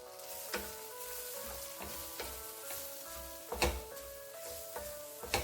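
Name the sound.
spices sizzling and being stirred in brinjal curry pan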